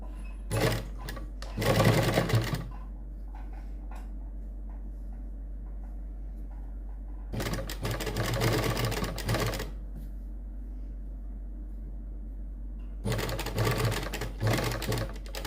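A sewing machine stitches lace onto a suit neckline in three loud, rapid rattling runs of about one to two seconds each, separated by quieter pauses over a steady low hum.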